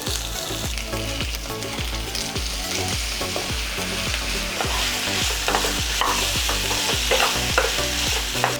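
Chicken pieces fry loudly with diced onion, chopped green chili and ginger-garlic paste, a constant close sizzle with rhythmic, repeated scraping stirs throughout.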